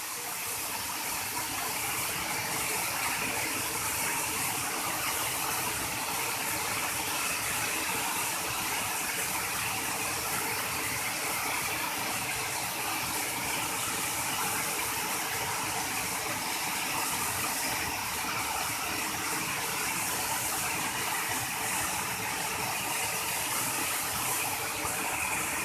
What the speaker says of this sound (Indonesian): luar biasa air terjunnya